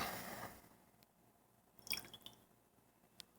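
Soy sauce splashed onto a raw ribeye steak in a kitchen, a faint trickle and a few small wet drips and squishes, quiet and brief with no talking.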